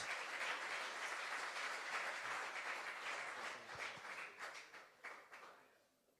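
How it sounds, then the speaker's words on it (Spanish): Congregation applause at a church service, a steady wash of clapping that starts full and thins out, fading to scattered claps near the end. "Bríndele un aplauso al Señor."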